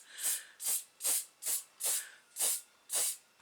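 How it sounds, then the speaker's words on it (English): An aerosol spray can lays weathering product onto a model R2-D2 in seven short, even hissing bursts with brief gaps between them, close and alone. "I don't know if this will pick up the spray"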